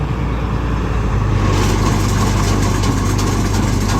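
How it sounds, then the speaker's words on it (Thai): A stock, untuned petrol engine idles steadily close by, a constant low rumble that grows slightly brighter partway through. "เครื่องยนต์น้ำมัน"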